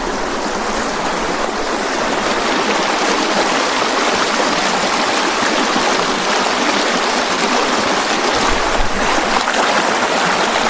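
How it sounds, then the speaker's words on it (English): A clear, glacier-fed mountain stream flows beside a walking path, giving a steady, loud, broadband rush of water that stays constant throughout with no speech. "A fresh stream of water next to the walking pitch"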